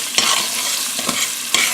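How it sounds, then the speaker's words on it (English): Hot oil sizzles steadily as food fries in a pan for Dominican-style rice and beans, with a few sharp scraping stirs of a spoon cutting through the constant crackle close by. "You can hear the oil is like frying the food in here."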